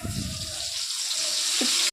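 Salt and turmeric water is poured from a vessel over sliced banana for chips, a continuous close splashing trickle that holds steady and then cuts off abruptly at the end, with no talking.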